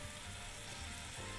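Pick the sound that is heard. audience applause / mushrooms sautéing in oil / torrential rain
mushrooms sautéing in oil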